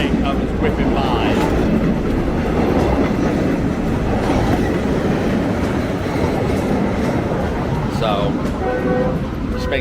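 A train rushes past close by in Bangkok, a steady loud rumble with rhythmic clatter of wheels on track, and a faint horn-like tone near the end.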